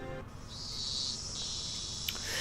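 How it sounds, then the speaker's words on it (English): A great chorus of cicadas in a sunny outdoor scene of the visual novel game Higurashi: Watanagashi, a steady high droning buzz that swells and shifts in pitch, alone and moderately loud. "The great chorus of cicadas was strongly underlining how nothing was different today than yesterday."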